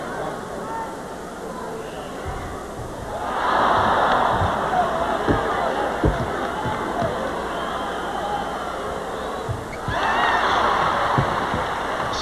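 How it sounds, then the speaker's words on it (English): A loud arena crowd at a 1978 Lakers vs Bullets basketball game in Landover roars in two big swells, the noise rising, holding, then surging again under a commentator's voice. "I can't remember a crowd in Landover making any more noise since that 1975 championship series"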